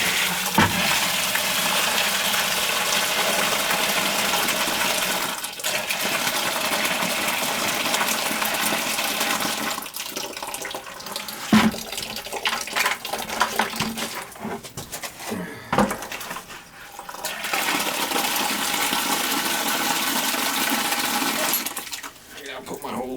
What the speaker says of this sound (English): We'll drain some water out of this thing.